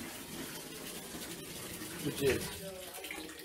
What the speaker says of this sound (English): I am putting water in the bathtub right now